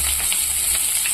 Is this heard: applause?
no